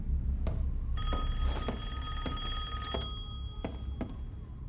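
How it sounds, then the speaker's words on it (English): A telephone rings in the video game Resident Evil Village, a bell-like ring with sharp thumping hits punctuating a low background hum, moderately loud and without speech. "Got a nice phone call."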